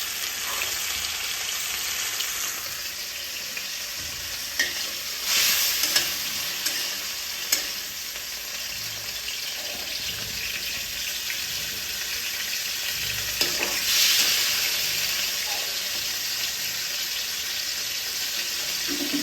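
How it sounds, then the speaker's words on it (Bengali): Broccoli florets frying in ghee in a pan for mixed fried rice, giving a continuous close sizzle with repeated scraping and stirring sounds and no voices. "ব্রোকলিগুলো আমি ভেজে নেব"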